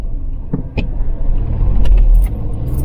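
A Volvo 240 car driving with driveline judder, giving a steady low rumble that builds toward the end, with a few faint knocks and clicks scattered through it and no talking.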